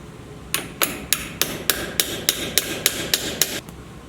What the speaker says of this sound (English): sometimes you do have to give them a little love tap just to get them to go in.